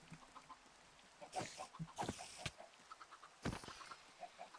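Minecraft chickens in a horror mod clucking softly in a quiet game scene, a few short bursts of clucks and scattered faint chirps, no talking.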